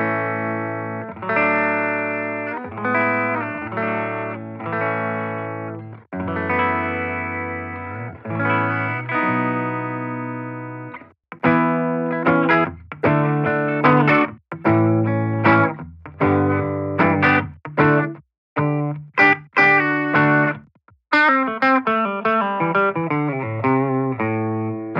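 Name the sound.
clean electric guitar, PRS humbucker, through Line 6 Catalyst 60W amp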